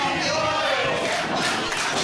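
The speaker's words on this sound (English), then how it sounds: "there's starting a Mikey Wilde chant in the crowd" A wrestling crowd in an arena roars together, rising into a loud, sustained chant for Mikey Wilde that fills the space with dense, overlapping voices and no clear break.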